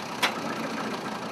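A Ransomes & Rapier 6-ton mobile crane's engine idles steadily nearby with a continuous mechanical rumble and a brief sharp click near the start, heard alone without talk.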